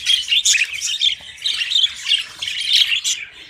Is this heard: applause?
no